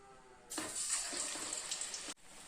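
Potato vadai dropped into hot oil sets off a sudden, steady bright sizzle with crackling bubbles, sustained for a couple of seconds and then cutting off abruptly, with no voices.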